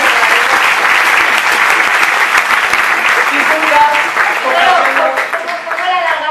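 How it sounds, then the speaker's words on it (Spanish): An audience applauds at a women's tuna gala of the Valencia medicine school, a steady dense wash of clapping that holds throughout, with voices faintly mixed in. "¿Cómo la alargamos, aquí, el aplauso y tal?"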